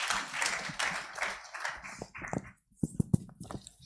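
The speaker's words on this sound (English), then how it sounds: "I'd like you to please cheer them on with a round of applause" A conference audience applauds panelists at a power sector business event; the clapping is moderately loud and thins out over two seconds into near silence, followed by a few sparse, isolated claps and taps.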